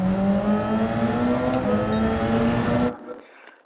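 Gr1 race car powering out of a corner at Le Mans in Gran Turismo 7, its engine note loud and close, rising steadily under throttle for about three seconds before the sound drops away to a faint tail.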